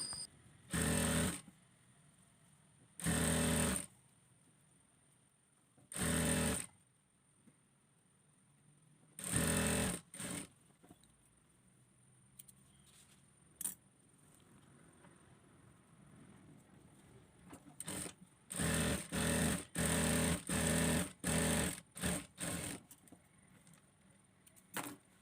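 A sewing machine stitching fabric for a ruffled-shoulder top, running in several loud bursts of a few seconds each separated by quiet gaps, then a quick series of short stop-start runs near the end, close up with no talk.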